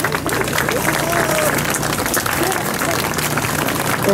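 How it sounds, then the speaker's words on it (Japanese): An outdoor audience at the 2019 Fushimi castle festival applauds to welcome the Kyoto Tachibana high school band, a dense, continuous clapping with crowd noise throughout. "どうぞ皆様拍手でお迎えくださいませ。"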